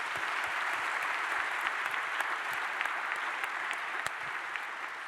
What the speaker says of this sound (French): je voudrais remercier, et que vous les applaudissiez, les 2 personnes qui ont posé des questions dans le public